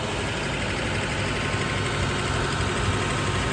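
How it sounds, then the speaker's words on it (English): A school bus engine idles slightly high with a steady, low rumble, constant vibration and no change in pace, close by and fairly loud. "bus is idling a little high right now"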